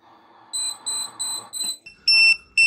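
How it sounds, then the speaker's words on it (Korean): A WANDI EDW 100 single-gas detector trips its alarm during a breath test, sounding repeated sharp, piercing electronic beeps in quick bursts that grow louder and steadier at the end, with a faint murmur underneath. "알람 값이 소리랑 진동 알람이 울리면서 위험을 감지할 수 있게끔 되고"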